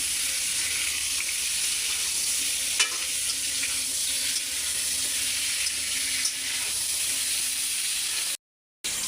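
A pan of potatoes and pointed gourd with whole garlic sizzles steadily on the stove, a close, even frying hiss with a few stir clicks and scrapes, no talking, ending in a brief cutoff of silence.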